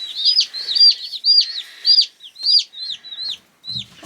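Cornish cross meat bird chicks, along with one free chick of another breed, chirping in a rapid run of high, close peeps that repeat with short gaps, ending with a faint low thump.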